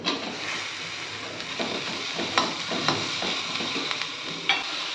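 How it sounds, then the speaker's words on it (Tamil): Onion and tomato sizzle and crackle in hot oil as a spoon stirs them, scraping the pan now and then. "ஒரு பெரிய வெங்காயத்தை கொஞ்சமாக எண்ணெய் ஊற்றி வதக்கிக்கலாம்"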